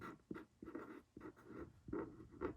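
A number is written on paper with a pen or pencil in a quiet close-up series of short scratchy strokes, about half a dozen in quick succession.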